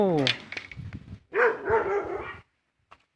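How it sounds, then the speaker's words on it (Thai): A dog at a newly built modern-style house in Thailand gives a few barks and whimpering yelps close by, mixed with a voice reacting to it, then goes quiet. "มึงจะมาเห่าอะไรกู"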